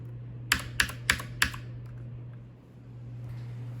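Four sharp, loud key presses click on a Redragon Mitra mechanical keyboard in quick succession, followed by quiet over a steady low hum.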